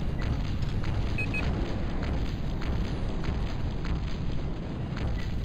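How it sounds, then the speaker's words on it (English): Tank explosion in Battlezone 98 Redux, a dense rumbling boom that holds as a continuous roar for several seconds at moderate level, with no talking. "Let's get a good shot of this tank explosion."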